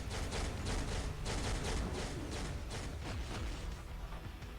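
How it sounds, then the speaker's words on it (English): Dense, rapid bursts of explosions and blasts from Marvel Future Fight crackle continuously, loud and close, with no talking. "Big explosion there."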